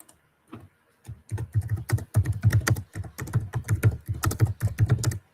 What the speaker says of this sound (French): j'ai coupé votre micro parce qu'on l'entendait, le clavier